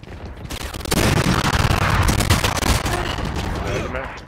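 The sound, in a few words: Spectre submachine gun firing in Valorant video game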